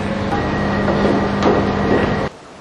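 Steady rumbling train noise with a faint clatter and hum fills the space at Shanklin station, then cuts off abruptly near the end.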